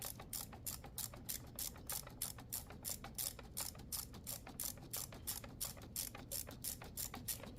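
A ratchet with a short socket clicks in rapid, steady bursts during an engine teardown for a charging coil replacement, close and loud with no voices.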